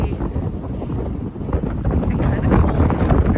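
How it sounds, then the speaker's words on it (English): Strong, cold wind roars and buffets the microphone steadily for a few seconds at a farm, a loud, constant rumbling gust with no other sounds. "Oh my god, it's so windy"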